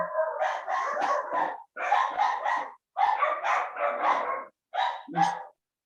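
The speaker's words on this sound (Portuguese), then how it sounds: "Seus cachorrinhos também participaram aí deram resposta também" Small dogs barking in a home, near and loud, in several bursts of rapid overlapping yaps with short pauses between them and no voices.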